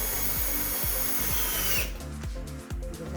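A power drill drives a small 4x16 screw into bathroom cabinet wood, a close whirring buzz with rhythmic ratcheting pulses that drops in pitch and tone partway as the screw seats, no talking.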